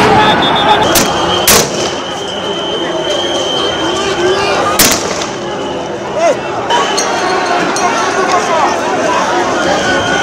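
Police fire live rounds at protesters in Nepal. Sharp cracks stand out a few times, loud and close over a dense, noisy background of crowd and commotion.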